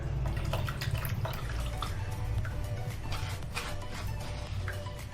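Steady pouring of water into a vessel, a continuous splashing, gurgling stream that stays fairly loud throughout with no voices.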